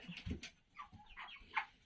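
Chickens cluck and peck at feed in a warm coop, with scattered soft clucks and rustling close by, a brief sharper squawk near the end.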